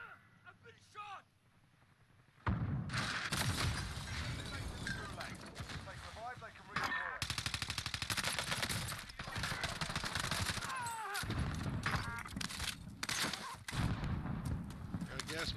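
Gunfire in the video game Warzone, dense rapid bursts and volleys that fill most of the clip loudly after a quieter opening, with players talking over the shooting.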